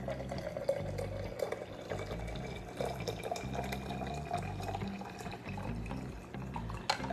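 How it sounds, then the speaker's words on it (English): Hot tea poured from a pot into a cup for a homemade raspberry mocktail, a steady close liquid trickle and splash running the whole time with small drips and clinks, no talking. "I'm always afraid I'm gonna pour this tea all over me."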